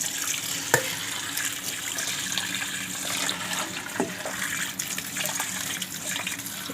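Glutinous rice being rinsed under a running tap, a steady close splashing stream of water with a few sharp clinks of grain and container, no talking.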